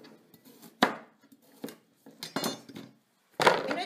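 Knife chopping carrots and lemons into big chunks on a board: a handful of separate, sharp chops spaced irregularly, close and fairly loud, with quiet gaps between them and no talk.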